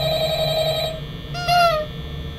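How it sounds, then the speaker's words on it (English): Electronic telephone ringing in the horror video game Five Nights at Freddy's: a steady tonal ring, then a brief louder warbling burst with stacked harmonics, heard alone over a low background hum. "How do I answer this phone?"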